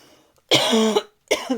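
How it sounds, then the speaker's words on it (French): Two close coughs, a longer harsh one and then a shorter one after a brief pause, loud and near. "je tousse en plus vers le micro."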